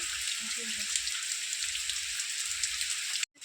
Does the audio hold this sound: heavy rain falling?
yes